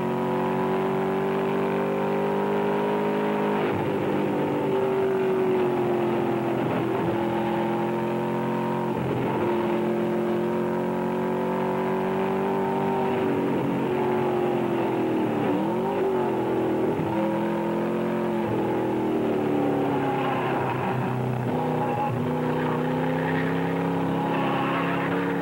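Corvette racing at Riverside International Raceway in 1964, a steady, moderately loud engine drone with shifting revs that rise and dip over the whole stretch, no voices.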